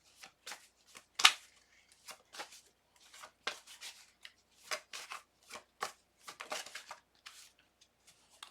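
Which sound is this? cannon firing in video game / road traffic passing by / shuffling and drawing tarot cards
shuffling and drawing tarot cards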